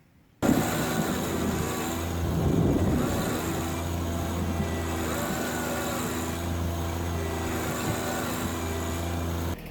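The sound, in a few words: small tractor engine dragging a machine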